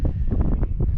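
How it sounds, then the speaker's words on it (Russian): Strong wind buffets the microphone outdoors among ruined buildings, a close, low, rumbling roar with several gusty surges packed into about a second. "Ветер дует ужасно."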